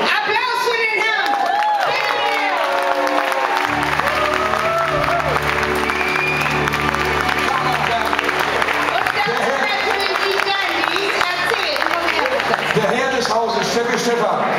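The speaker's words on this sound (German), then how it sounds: "Applaus für den Herrn!" Loud, sustained applause and cheering from a concert crowd greeting a singer coming on stage, dense and continuous with whoops and crowd babble, while a deep low sound rumbles underneath.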